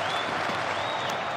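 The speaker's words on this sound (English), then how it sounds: "Adelaide Oval crowd getting behind Scotty Boland" Cricket crowd at Adelaide Oval roaring and applauding behind a fast bowler, a dense sustained wash of distant cheering with a faint whistle-like voice gliding above it.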